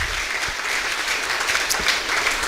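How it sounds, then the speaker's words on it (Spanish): A church congregation applauds during a service, a dense, sustained wash of many hands clapping together, fairly loud and continuous throughout. "Un aplauso al Señor, como siempre"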